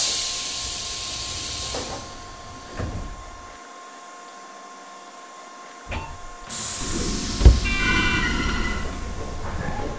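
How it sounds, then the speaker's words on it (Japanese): Doors closing on a Tobu 8000 series commuter train in the BVE train simulator game: a steady pneumatic hiss gives way to soft thuds, then a fresh burst of air and a firm clunk as the doors seal. "ドアが閉まります。"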